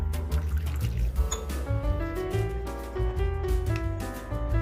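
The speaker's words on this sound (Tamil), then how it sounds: "இதில் வந்து நார்மல் வாட்டர் நம்ம ஊற்றி நல்லா மிக்ஸ் பண்ணிக்கலாம்." Plain water trickles and splashes as it is poured into henna powder and stirred, a close, gurgling liquid sound with shifting bubbly tones and soft clinks of mixing.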